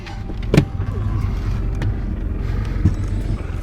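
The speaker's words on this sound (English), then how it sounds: "And yes, we have some boat traffic today, pushing some pretty good wake." Steady rumbling water and engine noise surrounds a fishing boat on a lake as passing boat traffic sends wake against the hull, with a few sharp knocks and slaps standing out over the continuous wash.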